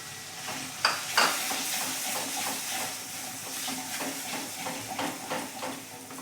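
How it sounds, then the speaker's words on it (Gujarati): Spice masala being stirred in a frying pan for a Gujarati tindora and potato curry: a steady sizzle and hiss with scraping stirs through it, plus a couple of sharper clinks near the start, close and continuous, with no talking. "બધો જ મસાલો અહીંયા મિક્સ કરી લઈશું"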